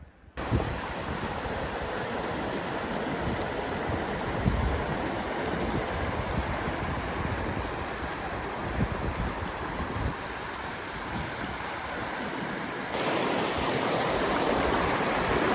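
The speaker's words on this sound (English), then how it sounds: "These are the famous stepping stones, but the river's too high." A high river rushes over stepping stones with a dense, continuous roar that stays loud and near throughout. It grows slightly fuller toward the end, and no voices are heard.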